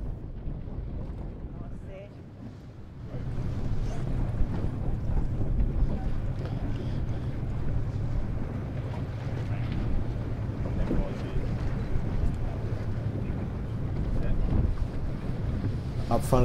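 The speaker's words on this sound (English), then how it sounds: "Sailing downwind in the first true sea breeze of the regatta, it was fantastic sailing conditions for these B14 skiffs." B14 racing skiffs sail downwind in a sea breeze at a regatta, with steady buffeting wind roaring across the microphone and rushing water and waves along the hull, continuous and loud after a brief quieter start.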